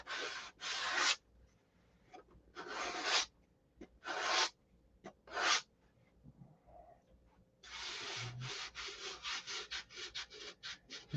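Sandpaper scrubbing over the body of a Viper car in uneven bursts of rasping strokes with short pauses, then a fast run of quick back-and-forth strokes near the end, close and fairly loud.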